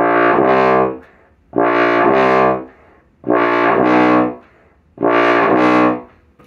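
Low brassy bass trombone notes played alone, four long sustained tones each about a second, separated by short gaps, loud and close.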